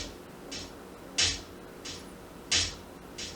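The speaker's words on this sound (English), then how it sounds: "let me show you this live hat pattern that I put together" Programmed live hi-hat pattern for a beat, crisp ticking hits in a steady loop with slightly accented strokes, faint and alone over low background hiss.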